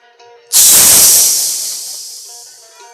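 A voice imitates anklet bells jingling, making one loud, breathy hissing 'chhh' burst that starts abruptly and slowly fades over a couple of seconds, with faint music behind it.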